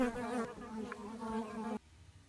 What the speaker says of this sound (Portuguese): Esta é uma vespa das areias de outra espécie que partilha o mesmo espaço